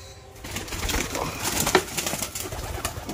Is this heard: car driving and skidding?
no